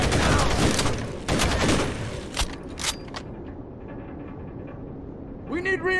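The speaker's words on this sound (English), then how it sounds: "We can take out tangos who hide behind thin cover like wood, plaster, or thin metal by shooting right through it." Rapid gunfire in Rainbow Six Vegas 2 as shots punch through thin cover of wood, plaster or metal, a loud close burst of fire followed by scattered single shots, under game voices.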